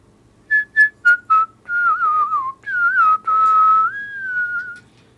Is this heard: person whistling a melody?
yes